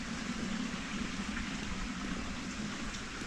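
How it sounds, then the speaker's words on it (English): Running water flows beside a walking path, a soft, steady hiss with no breaks and no voices, quiet and constant throughout. "walk by the running water. It's just a nice sound."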